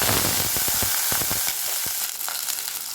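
Brinjal and shallots fry in a hot pan with a loud, continuous close-up sizzle and crackle, plus a few soft stirring knocks.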